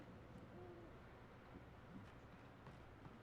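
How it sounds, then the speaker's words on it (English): Owls hoot faintly in the Alan Wake video game, soft low calls spaced over a quiet, hissy ambient background. "I hear owls."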